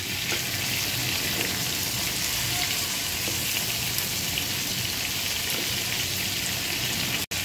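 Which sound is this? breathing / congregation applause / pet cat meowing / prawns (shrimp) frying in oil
prawns (shrimp) frying in oil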